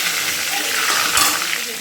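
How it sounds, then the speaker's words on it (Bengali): Brinjal slices fry in plain hot oil with a loud, continuous sizzling hiss and a brief burst of stirring midway. "একদম সাদা তেলে ভেজে নেবো"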